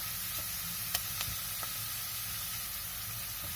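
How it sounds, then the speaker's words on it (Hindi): Garlic and ginger paste sizzling and frying in a pan over medium heat, a constant hiss with a few soft clicks and stirring scrapes, close by, no voices. "अब हम इस मुकाम पर इसमें लहसुन और अदरक का पेस्ट बनाकर वो शामिल कर देंगे।"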